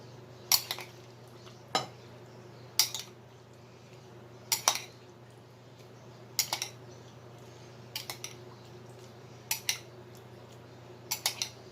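A spoon mixes tokwa't baboy, fried tofu and pork, in a bowl, with sharp metallic clinks and scrapes arriving in irregular clusters every second or two over a low steady hum, close and distinct, with no talking.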